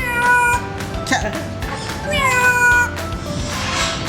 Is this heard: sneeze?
no